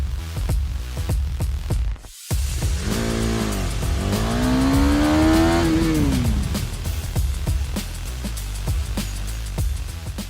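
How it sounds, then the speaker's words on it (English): A KTM 250 Duke motorcycle engine rises and falls as the rider accelerates and then brakes hard for a stoppie. A loud, close, continuous drone with a brief dropout, followed by a rising and sinking pitch sweep. "We are now moving to the last braking point, which is about 50 meters and max 60 kilometers per hour"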